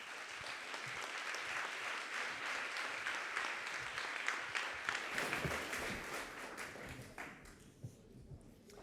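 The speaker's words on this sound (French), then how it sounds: "Veuillez les applaudir, s'il vous plaît." Steady applause from an audience at a French annual ceremony on stage, dense clapping that holds for several seconds and then thins out near the end.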